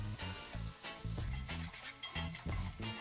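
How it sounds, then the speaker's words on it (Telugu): Onions and green chillies with turmeric fry in a pan for chicken dum biryani, a continuous close sizzle punctuated by rhythmic scraping stirs about twice a second, with no speech. "ఉల్లిపాయలు, పచ్చిమిర్చి వేసి కొంచెం పసుపుని కూడా వేసి బ్రౌన్ కలర్ వచ్చే వరకు ఉల్లిపాయలను వేయించండి"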